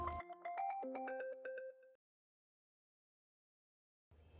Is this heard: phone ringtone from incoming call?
yes